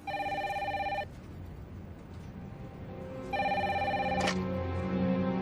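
A telephone rings in two bursts of electronic trilling, one at the start and one near the end, loud and close, with a quiet pause between them and no talking.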